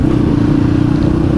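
A bored-up Kawasaki KLX motorcycle fitted with an aftermarket exhaust gives a loud, steady low rumble close by, holding an even throb without revving up or down.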